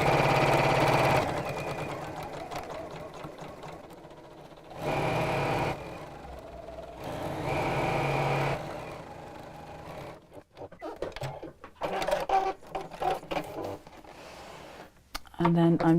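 A sewing machine stitches around the corners and edges of a fabric book cover in steady motor bursts with pauses between them, under someone talking throughout.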